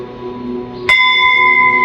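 A temple bell at a Ganesh temple is struck once by a child, giving a sudden bright clang that rings on with a steady, sustained metallic tone over faint background noise.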